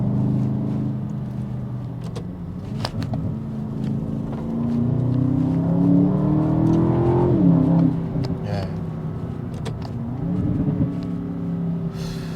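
An Aston Martin DBX SUV engine drones steadily, then its note swells and climbs in a rising rev around the middle before easing back to a lower hum.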